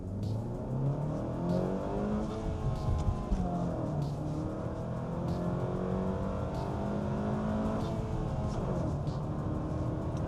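A Honda Civic Sport with a naturally aspirated 2.0 engine revs while driving, a smooth rising and falling drone heard from inside the cabin, steady and moderately loud with gear changes.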